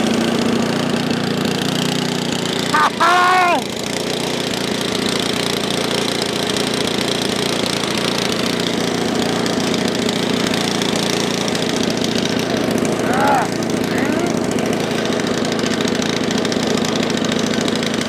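An Ariens snow blower engine, primed too heavily with fuel dripping from the exhaust, runs steadily and loudly throughout, a rough continuous drone with a couple of brief higher whines breaking through.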